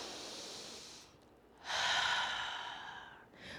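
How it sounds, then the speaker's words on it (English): Deep breaths drawn in through the nose and let out through the mouth during a floor stretching session, a soft airy inhale then a louder, longer exhale, close and alone. "let's take a couple of deep breaths in through the nose, out through the mouth"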